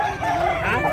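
A rooster crows once, close by and loud, at a market where gamecocks are brought for sale.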